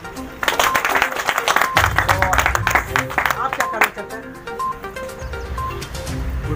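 Hotel staff clapping at a Republic Day flag-hoisting ceremony, a burst of applause that comes in loud and fades to scattered claps while people speak over it.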